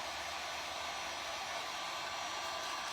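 Hair dryer blowing to dry paint on a denim jean pocket, a steady continuous whooshing hum, close and fairly quiet, with no talking.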